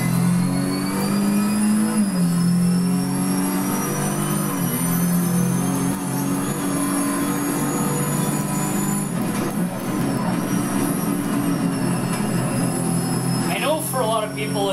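Porsche 917K race car engine in Assetto Corsa, a loud sustained engine drone with shifting pitch as it revs and changes gear, someone talking over it.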